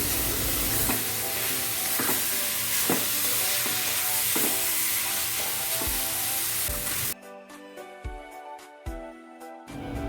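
Dried beetroot frying in a pan for halwa, a loud continuous sizzle with rhythmic scrapes of a spoon stirring, then the sizzle cuts out and a few sharp utensil knocks follow at close range.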